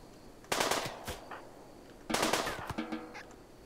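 Colonists firing guns in the Rimworld video game: two bursts of rapid shots, each a cluster of sharp cracks about a second and a half apart, with smaller pops trailing the second burst, loud and with no talking.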